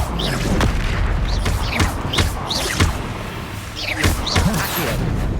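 Confringo spell blasts in Hogwarts Legacy go off repeatedly, with sharp booming explosions and whooshing spell sounds over a loud layered game soundscape.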